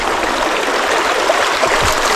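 A fast river current rushes continuously nearby, a dense steady roar with faint gurgles underneath.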